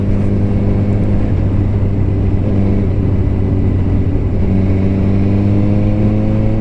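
Three motorcycles cruise together through the Tennessee hills, a 2005 Yamaha R6, a 1997 Honda Nighthawk 250 and a 2006 GSXR 750, their engines a steady, loud, close drone with layered tones that shift slightly as they ride.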